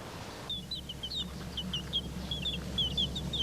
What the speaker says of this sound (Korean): 이 새는 처음 얼뜻 보기에는 다른 병아리들과 같아 보입니다